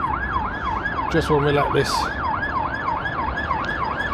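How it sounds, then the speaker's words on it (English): An ambulance siren wails past on a London street at night near Blackfriars by the River Thames, its steady rising-and-falling tone loud and continuous under traffic, with a brief burst of speech partway through. "It's an ambulance going by."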